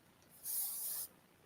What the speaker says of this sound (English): So then I come in here and I spray.